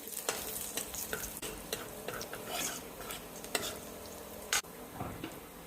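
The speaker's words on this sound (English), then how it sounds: "Stir fry it till the garlic turns golden brown" Finely chopped garlic stir-frying in hot coconut oil in a wok, a close, soft sizzle with repeated scraping strokes of a spatula and one sharp metallic clink.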